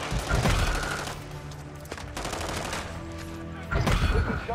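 Gunfire crackles in short, loud bursts during a Call of Duty DMZ match, with a pause in the middle before the shooting resumes.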